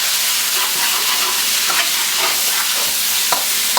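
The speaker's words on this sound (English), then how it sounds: "We'll put in our 2 tablespoons of garlic and throw in our marinated pork. And we're just going to stir fry this off here." Marinated pork and garlic stir-frying for a Cantonese pork and potato dish, a loud, continuous close-up sizzle with scattered scraping stirs and no voices.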